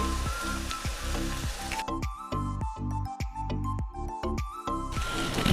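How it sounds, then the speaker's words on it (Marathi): Ginger garlic paste sizzling and crackling in a hot pan, a steady frying hiss with irregular popping bursts throughout, no talking. "आलं लसूण पेस्ट घालूया"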